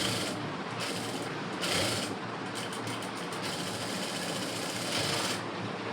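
Sewing machine stitching a blouse, running as a steady mechanical whir with a few short bursts and pauses in the rhythm.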